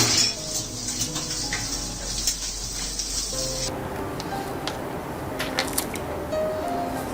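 Dishes, pots and cutlery clinking and clattering during washing, with a steady wash of running water in the first half and scattered sharper metallic and glassy knocks throughout, fairly close.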